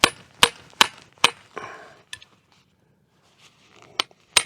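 A mason's hammer strikes hot metal at a campfire forge, ringing in sharp, close metallic clanks at an uneven pace, with a gap of near silence before two more blows.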